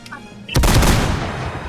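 Gunfire erupts in a video game as a sudden sharp blast after a quiet moment, followed by a dense burst of booming shots that ring and decay over the following second.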